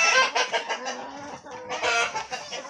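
A flock of about twenty backyard chickens clucks in short overlapping bursts, fairly close, with no talk over it.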